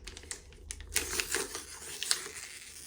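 A sterile package holding a cord-cleaning swab is peeled open during umbilical vein catheter preparation, making a continuous close crinkling and tearing rustle of plastic and paper that lasts throughout, no talking.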